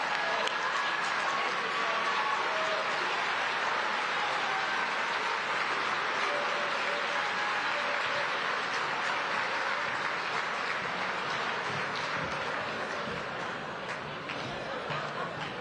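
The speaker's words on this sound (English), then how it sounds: "another big round of applause for the 49th Vice President of the United States" Big crowd applause for the Vice President at an event honoring MLK Jr., loud continuous clapping with scattered cheers and chatter, easing slightly near the end.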